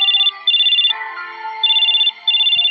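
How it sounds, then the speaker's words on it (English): An electronic ringtone from a jet black flip phone in the video game Choices, loud repeated bursts of bright trilling tones that pause between phrases, with a softer melodic tune in the gaps. "You follow the sound to the living room to find a jet black flip phone buzzing on the coffee table."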